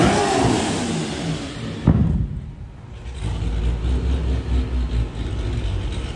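A BMW Exo Kart engine runs loudly up close, a steady rough rumble with a brief sharp spike and dip partway through before settling back into a constant drone.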